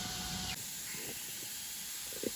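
Steam vents from a pressure canner while canning meatless red pasta sauce, a continuous airy hiss that drops slightly early on and then holds steady with faint clicks and rumbles underneath.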